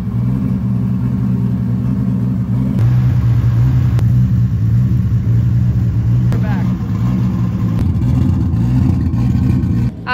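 BMW E46 drift car engine rumbling loud and steady at close range through the lap, with low harmonic drone and rising revs, mixed with voice-like sounds.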